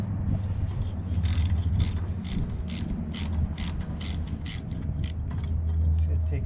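A wrench ratchets an 11 millimeter screw off an Ariens snow blower, producing a rapid series of clicking ratchet strokes over a steady low mechanical hum, close up and without talk.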